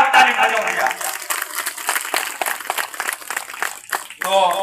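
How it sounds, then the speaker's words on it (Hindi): An audience claps for a guru at a stage gathering, a dense burst of applause of moderate loudness that rolls on for several seconds under a voice speaking over it. "सभी लाइन से गुरु का जोरदार ताली बजाओ भैया"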